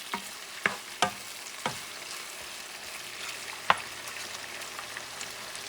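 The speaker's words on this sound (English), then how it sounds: "You don't want the garlic to burn, so you just toast it for a few seconds." Garlic toasts in a pan as the base for pork stew, giving a soft, steady sizzle. A few sharp clicks of a utensil against the pan stand out near the start and once more midway.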